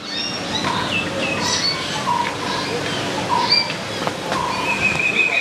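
Birds in a zoo aviary at the Dehiwala Zoo give scattered chirps and whistled calls at moderate distance over a steady background hum of the enclosure, with several calls overlapping.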